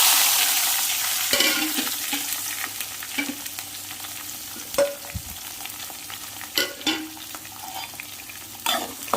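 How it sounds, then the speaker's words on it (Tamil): Shallots and garlic, with dried chillies and curry leaves, fry in cold-pressed sesame oil, a soft steady sizzle fading gradually while repeated spoon scrapes and knocks against the pan punctuate it. "இப்போ இது நல்லா எண்ணெயிலே வறுபடட்டும்"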